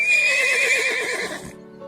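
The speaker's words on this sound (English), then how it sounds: "horses" One horse gives a loud, close whinny with a wavering, shaky pitch that fades out after about a second and a half.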